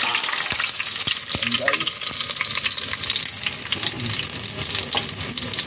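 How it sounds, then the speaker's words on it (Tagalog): Garlic sautéing in hot oil in a home kitchen, a steady crackling sizzle with sharp pops and spoon scrapes against the pan, while someone talks over it. "Igisa natin ang siyempre yung bawang guys."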